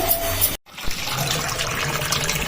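Water is poured out for pigeons at home, a close splashing, tap-like flow that breaks off briefly near the start and then resumes steadily.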